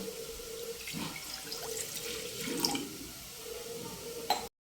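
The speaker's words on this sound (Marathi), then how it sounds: "त्यामध्ये 1 ग्लास पाणी टाकणार आहोत" Water runs and splashes steadily for several seconds, a continuous pouring hiss with a faint background hum.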